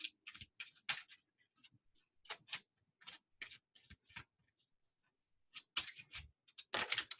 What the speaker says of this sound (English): I guess you really don't need to see me shuffle